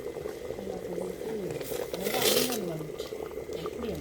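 Yam porridge bubbles in a pot over a village kitchen fire after about fifteen minutes of boiling. The soft, steady bubbling and gurgling is close by and partly covered by a voice talking.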